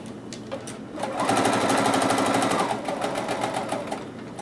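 A sewing machine runs a straight quarter-inch seam on pillow fabric, a steady rapid needle chatter close up that starts after a brief pause and holds evenly for several seconds.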